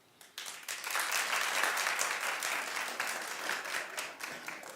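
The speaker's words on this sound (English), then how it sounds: "Clap if you think it should come back." A studio audience at a daytime talk show claps, starting abruptly after a short quiet moment and then holding a steady, moderately loud wash of applause.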